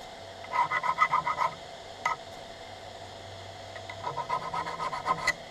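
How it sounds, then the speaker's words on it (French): A fine, smooth hand file rasps across metal in two runs of quick, rhythmic strokes, with a lone stroke between them, fairly close and moderately quiet, while making the fixed jaw of a small vise. "c'est une lime très douce"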